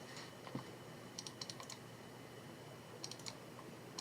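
Clusters of quick, faint key clicks from a computer keyboard, typed in two short bursts with a pause between, close by over a low steady background hum while someone works at setting up a 3D printer.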